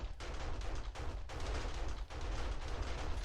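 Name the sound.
perimeter turrets firing at zombies in 7 Days to Die video game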